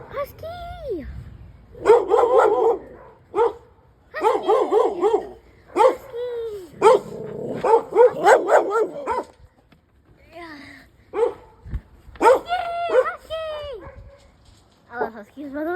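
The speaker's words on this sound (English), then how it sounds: "Oh, there's a husky." A husky dog barks outdoors in the rain, with repeated bursts of barking and yips close by, mixed with excited human talk and the steady hiss of rainfall.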